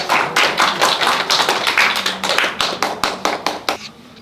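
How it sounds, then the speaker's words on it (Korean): An audience at a Korean university consulting presentation claps in sustained, fairly rhythmic applause, loud and close, with individual sharp hand claps standing out before it thins and stops near the end. "박수 부탁드립니다."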